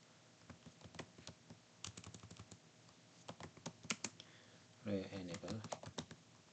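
Quick bursts of typing clatter on a computer keyboard as a sudo command is entered, close and fairly quiet, with a short spoken word partway through.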